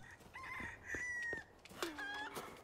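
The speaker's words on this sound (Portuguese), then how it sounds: "Vai lá, galinha, pode botar mais ovo aí que eu tô precisando mesmo" A chicken in Resident Evil 4 Remake clucks and crows in a few short, nasal calls, fairly close and fairly quiet, with no talk over it.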